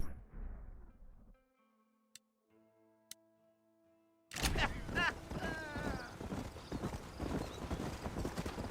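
In the Red Dead Redemption video game, a horse's hooves clip-clop in a steady, close rhythm while riding, starting after a quiet stretch and continuing under music and background game sounds.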